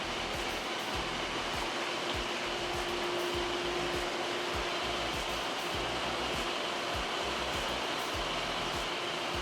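Pool and spa pumps running in a pump room, including the large pool pump, spa pump, small pool and slide pumps, a dense steady whooshing hum that continues unbroken throughout.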